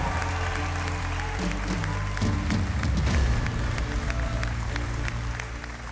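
Studio audience at The Voice Afrique Francophone battle round cheering and clapping steadily, a loud dense crowd roar that swells midway and then eases slightly.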